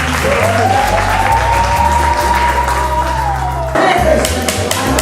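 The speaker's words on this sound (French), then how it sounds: "Est-ce qu'on peut applaudir pour cette famille de femmes?" Audience applauding a family of women at a cultural gathering, steady dense clapping throughout with a held tone and voices mixed in, louder near the end.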